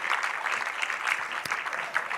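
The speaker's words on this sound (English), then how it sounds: "Can you truly applaud the Social Innovation School?" Audience applause at a development dialogue event, a dense, steady wash of clapping from many hands throughout, moderately close.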